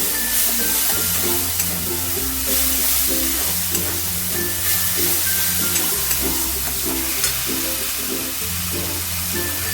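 Prawns and potatoes in a curry masala with a little sugar sauté in a pan, a steady close sizzle and hiss running throughout, with sustained tonal background music underneath.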